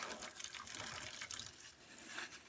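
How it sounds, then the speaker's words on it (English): Hot water gushes from a tap in a garage, splashing steadily and continuously at close range, broad hissy spray with no voices. "Hot water."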